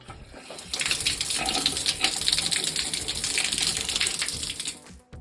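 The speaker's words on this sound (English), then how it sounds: "Do that until the water flows freely" Water gushes steadily from a radiator bleed valve for several seconds with a hissing, splashing flow, fairly close, then cuts off abruptly near the end.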